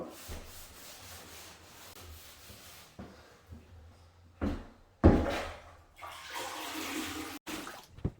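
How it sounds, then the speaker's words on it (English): Drywall dust is wiped up from a surface before floors go down, giving irregular rubbing and scraping strokes, close and fairly quiet, with a few sharper bumps and pauses between passes. "just kind of wipe up the dust"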